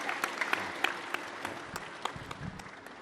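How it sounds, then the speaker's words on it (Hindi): An audience at a yoga session claps in a loose, patchy rhythm, individual sharp claps standing out over a softer bed of crowd noise, fairly faint overall. "चलो एक बार जोरदार तालियां हो जाए"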